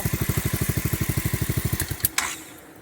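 A Honda Forza 350 scooter fitted with an Akrapovic exhaust idles with a fast, even, loping pulse, then the engine cuts off, leaving a couple of sharp clicks and a fading tail into near silence.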